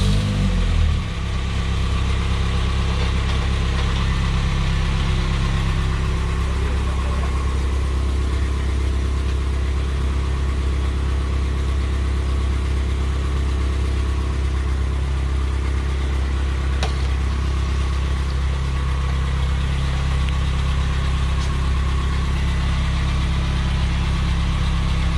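A steady, low engine idle of a Spartan Urban Warrior hydro jetter drones continuously from start to finish, loud and close, with no talking over it.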